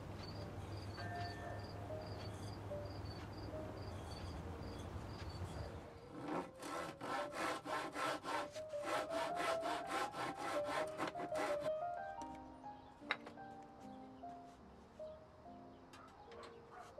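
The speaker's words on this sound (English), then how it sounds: "I'm cutting the two crossbars for the propeller 1/2 by 1/2 by 6 inch" A hand saw cuts half-inch-square wooden crossbars for a whirligig propeller with about six seconds of quick, rhythmic rasping strokes close by, while soft music with bird-like tones plays before and after.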